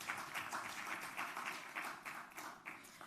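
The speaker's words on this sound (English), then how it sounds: "That deserves a round of applause." Sustained crowd applause at a trucking organization's ceremony, dense rapid clapping from many hands, steady and fairly loud throughout with slight swells in intensity.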